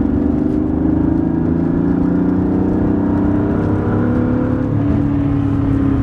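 A BMW E36 M3 engine held at about 70% throttle makes a steady, close drone that rises only slightly in pitch over several seconds, with a whirring, slightly lean-running tone and no voices.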